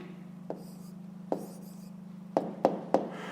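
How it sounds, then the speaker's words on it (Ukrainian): A pen writes a math answer by hand in a short series of faint scratchy strokes and taps, close up against a steady low hum, with no talking. "Пишемо відповідь."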